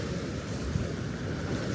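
Rough sea sloshes and churns against a small fishing boat out on open water, a steady broadband wash with wind buffeting the microphone and no voices.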